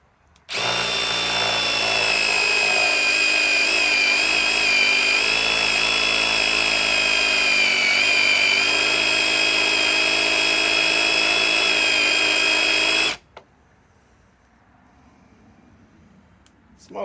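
A Metabo HPT cordless impact driver bores into 1/8-inch-thick sheet metal, giving a loud sustained high-pitched whine for about twelve seconds that stops abruptly, followed by near silence.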